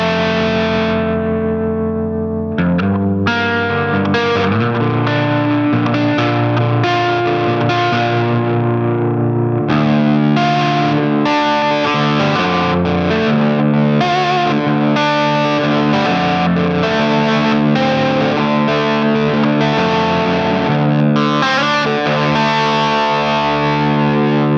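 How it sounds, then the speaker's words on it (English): Electric guitar played through the Guitar Rig 7 Tube Screamer overdrive, strummed chords and riffs with a driven, saturated tone that continues steadily and loudly for the whole passage with no talking. "So let's just grab the tube screamer, pop it over the top."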